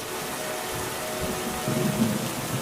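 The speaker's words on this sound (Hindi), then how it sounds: "कुछ दिनों बाद बहुत तेज बारिश होने लगी" Heavy rain pours steadily as a dense, continuous hiss, with low rumbling thunder rolling underneath toward the end.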